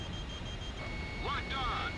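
A missile lock-on tone in War Thunder sounds as a thin steady high whine that holds through the moment, faint behind the cockpit hum, with a brief warbling chirp near the end.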